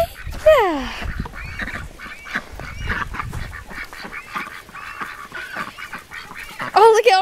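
Ducks call outdoors in a wintry, icy setting, with a few loud honking quacks up close at the start and the end and scattered quieter calls in between, under light background noise and occasional voices.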